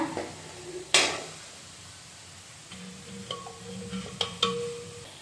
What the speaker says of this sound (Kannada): ಒಗ್ಗರಣೆ ತಗೊಂಡು ಈ ಸಾಂಬಾರ್ಗೆ ಹಾಕ್ಕೊಳ್ಳೋಣ